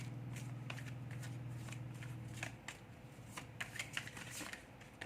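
Tarot cards are shuffled and drawn in close, quick riffling and flicking bursts that start as a steady run and then break into sharper, scattered snaps.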